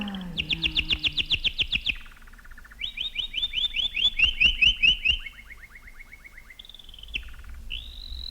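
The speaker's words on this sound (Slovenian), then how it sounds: "s svojim petjem si pregnal smrt od mojega srca" A nightingale sings in a fairy-tale setting: loud, clear phrases of rapid repeated trilled notes, then sustained whistled tones, with short pauses between bursts and nothing else heard.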